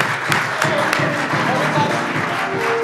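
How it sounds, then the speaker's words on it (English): An audience at an Easter church program claps steadily, a dense wash of many hands applauding continuously. "give all of our Easter program participants a hand clap"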